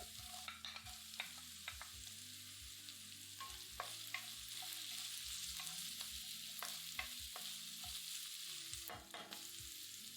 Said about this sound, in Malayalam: പിന്നെ പച്ചമുളക് അരിഞ്ഞതും സവോളയും ഇട്ട് ഏതാനും സെക്കൻഡ് വഴറ്റുക.